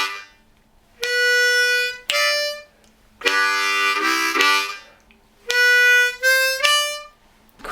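A harmonica plays chugging lick number 2: short bursts of bright reedy chords alternating with held single notes in a slow, steady rhythm, close and clear, with no talking.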